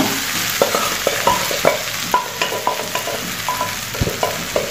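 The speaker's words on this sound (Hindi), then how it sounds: "अब इसी कढ़ाई में मैं जो तेल बचा हुआ है हमारा, उसमें ये सारी घुगनी को पलट दूंगी" Moong ghugni is stir-fried in leftover oil in a kadhai over high flame, giving a steady close sizzle broken by repeated scraping and stirring clinks at an irregular rhythm, with no talking.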